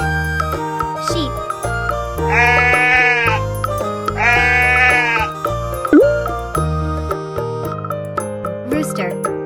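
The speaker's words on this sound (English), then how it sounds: "Sheep." Sheep bleating on a children's farm-animal learning track: two loud, wavering baa calls, each about a second long, over a steady music backing.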